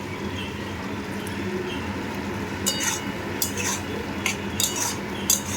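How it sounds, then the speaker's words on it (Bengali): Cooked vegetables with ghee and garam masala are stirred in a pot, soft scraping under a low background hum, then several sharp metal clinks of a spoon against the pan toward the end. "নেড়ে দেব"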